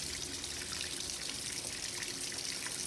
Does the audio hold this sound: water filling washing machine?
yes